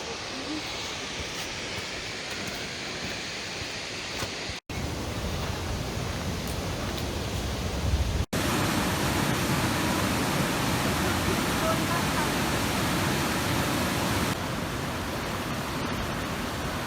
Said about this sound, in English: we are on the top of Vernal Falls now and doing the mist trail